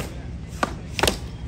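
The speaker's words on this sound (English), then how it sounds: "They're chopping within inches of their feet with a 5 to 6 pound razor blade on the end of a stick." A 5 to 6 pound axe chopping wood during a competition at the 2022 Metzler Forest Products Lumberjack Festival: two sharp, close strikes about half a second apart over steady outdoor crowd noise.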